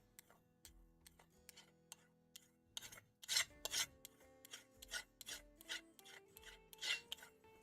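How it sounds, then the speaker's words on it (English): An axe blade is worked back and forth on a diamond stone to strip rust and dirt, giving irregular raspy scraping strokes, some louder than others, close up with no talking. "I'm sharpening an axe."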